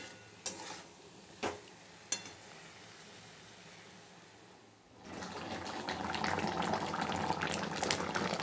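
Water poured into a pan of potato, pointed gourd and prawn curry, with a few spoon clinks over quiet background before a loud rushing pour and bubbling sizzle fill the second half.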